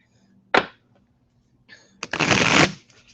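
Playing cards being shuffled up close: a quick riffle snap, then a longer riffling burst a moment later, otherwise quiet.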